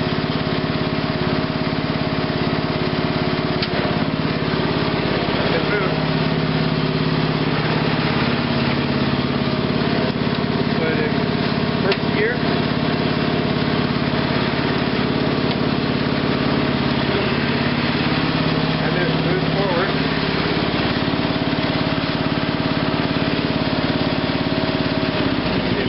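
A 1987 Rally riding lawn tractor engine idles after a cold start, a steady, loud, close small-engine drone with a slight uneven flutter running throughout with no talk.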